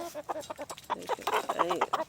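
Several hens cluck close by in quick, overlapping bursts, a steady chatter of short calls that never pauses.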